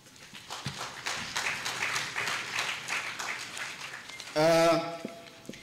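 Audience applauding at a government local-authorities college convocation in Hombolo, Tanzania, a steady mid-loud crowd clapping for several seconds, ending with a brief loud burst of voice or cheering.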